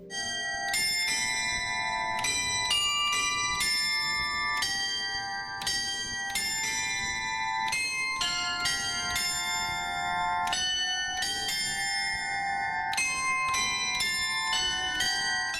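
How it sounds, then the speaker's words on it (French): Carillon bells in a church bell tower are played in a melodic sequence, bright struck tones ringing one after another in a steady tune, loud and close, with no voices. "Le groupe a fait une visite de l'église avant de monter au clocher pour faire quelques essais du carillon"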